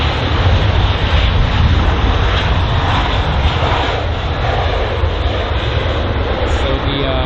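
An Air France Airbus A321 arrives on runway 27R at London Heathrow, its jet engines roaring loud and steady throughout with a broadband rush that holds constant, close by and overhead.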